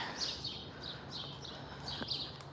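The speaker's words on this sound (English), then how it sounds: "The birds are chirping." Small birds chirp at sunrise at Disney's Boardwalk Resort, a few faint, high tweets scattered over a steady outdoor hum, distant and soft, with no talking.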